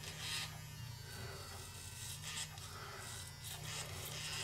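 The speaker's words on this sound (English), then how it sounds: "Now I'm going to switch over to the Gillette ProGlide Power." A Gillette ProGlide Power vibrating razor shaving, a steady low electric buzz under a rasping scrape of blades across stubble, close up and continuous, with slow strokes swelling and fading.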